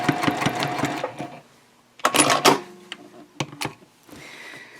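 A sewing machine back stitching across a fabric shopping bag, whirring in short bursts of rapid needle chatter separated by pauses and a few clicks, close and loud with no talk.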